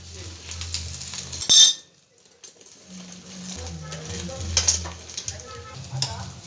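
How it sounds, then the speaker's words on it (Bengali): Egg and a roti fry in a pan for a Kolkata-style egg roll, with a soft ongoing sizzle, a sharp metal clink of utensil on pan, and occasional scraping under a person's speech. "এবার এর মধ্যে আমি একটা রুটি বসিয়ে দিচ্ছি।"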